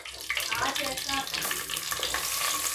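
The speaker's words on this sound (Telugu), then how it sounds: "ఉల్లిపాయలు అనేవి కొంచెం గోల్డ్ కలర్ వచ్చేంత వరకు బాగా ఫ్రై చేసుకోవాలన్నమాట" Onions, green chillies and chopped tomato frying in a pan for fish dum biryani, giving a steady, fairly loud hiss and crackle that runs unbroken throughout, with no talking.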